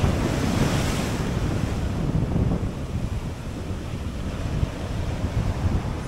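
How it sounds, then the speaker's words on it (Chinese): Rough Pacific Ocean surf breaking on the shore at Miho no Matsubara by concrete wave breakers, loud and continuous, with heavy wind buffeting the microphone throughout. "前面是海浪，太平洋。"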